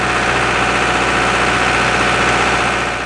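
An International Harvester tractor engine runs steadily during a drawbar dynamometer test, a loud, constant low rumble with dense mechanical vibration and no breaks.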